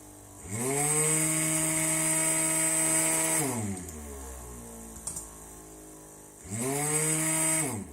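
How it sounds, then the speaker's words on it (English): An electric motor switching on and ramping quickly up to a loud, steady harmonic whine, then spinning down over a couple of seconds to near quiet before starting up again with the same rising hum. "This is motor on then off with speed."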